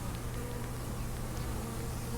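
A dense, loud swarm of honeybees drones without pause during a hive inspection, the close buzzing filling the space evenly.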